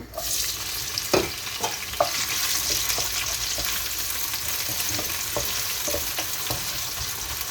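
Chopped onions fry in a pan with a constant close sizzle, punctuated by regular spatula taps and scrapes against the pan.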